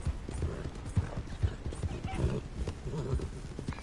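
Horse hooves clip-clopping in Red Dead Redemption, a steady trotting rhythm of close, fairly quiet hoof falls with faint mechanical creaks beneath.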